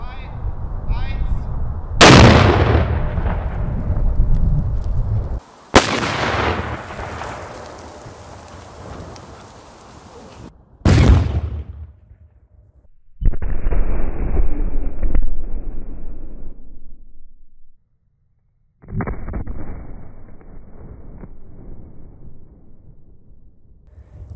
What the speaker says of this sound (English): we could hear the bang about 3 times from the echo it produced